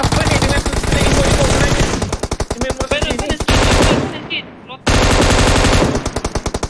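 Automatic gunfire rings out in PUBG on the Sanhok map, loud rapid bursts of machine-gun shots with a brief pause before the firing resumes, and a voice murmurs underneath.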